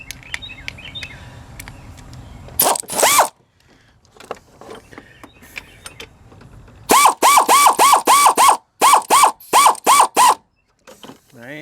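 A ratchet snugs the thermostat housing bolts on a Chevy in quick bursts of rapid clicking, with short runs early and a longer stretch of repeated strokes later, and faint bird chirps behind.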